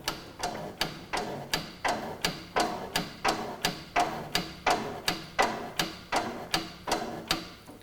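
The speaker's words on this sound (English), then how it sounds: "we pump the handle" Handle of an ATEX corner drum lifter being pumped while raising a drum, giving a steady series of about fifteen sharp mechanical clacks roughly every half second, close and clear with no talk.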